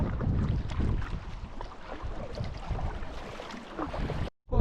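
Gusty wind buffets the microphone over choppy water while kayak fishing, with low rumbling and splashing noise before a brief dropout near the end.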